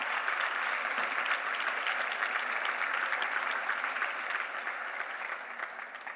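Sustained applause from a church congregation, steady dense clapping with no talking, fading slightly toward the end.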